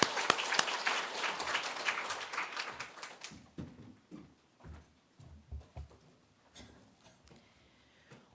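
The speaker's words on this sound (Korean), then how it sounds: "우리 박수로 함께 영광 돌리고 결단하겠습니다." Congregation applause at a Sunday church service, dense and loud for about three seconds, then breaking into scattered, fading claps.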